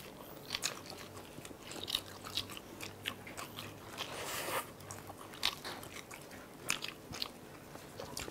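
Crispy fried chicken skin from old-fashioned whole fried chicken crunched in loud close bites, sharp crackling snaps repeating at an irregular chewing rhythm with no talk.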